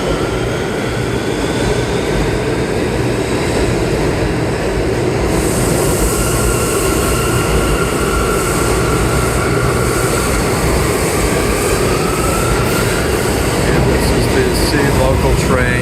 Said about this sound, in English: So this is the A train express